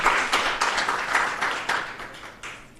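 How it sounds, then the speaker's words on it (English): An audience applauds for a few seconds, a dense wash of many clapping hands that slowly thins out. "Can we give her another round of applause?"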